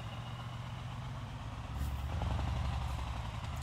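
A Scania Next Generation truck rolling along in Euro Truck Simulator 2, its steady low diesel drone and road rumble swelling slightly louder partway through, with no voices.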